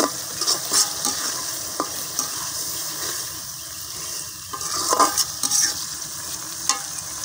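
Fresh fish oil fries in a pan with a soft, continuous sizzle, punctuated by occasional clicks and louder stirring scrapes and bubbling bursts around the middle and end, with no one talking.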